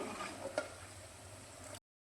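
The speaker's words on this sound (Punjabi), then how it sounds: "ਹੁਣ ਦੇਖੋ ਜਿੱਦਾਂ ਇਹਦੇ ਵਿੱਚ ਉਬਾਲ ਆ ਰਿਹਾ ਨਾ ਤੇ ਇਹਦਾ ਮਤਲਬ ਹੁਣ ਆਪਣਾ ਘਿਓ ਬਣ ਗਿਆ" Ghee made from cream bubbles and sizzles in a pan on a gas stove, a steady close crackling hiss with one brief pop, then it cuts off into silence near the end.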